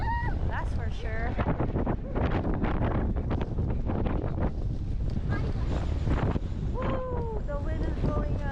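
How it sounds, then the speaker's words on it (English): Strong wind buffeting the microphone on an Alaska cruise ship deck, a loud continuous roar with gusts while people talk and exclaim over it. "that is the strong wind that is blowing towards us"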